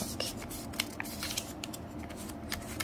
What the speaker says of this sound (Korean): 안쪽에 손을 넣고 눌러서 이렇게 접어주세요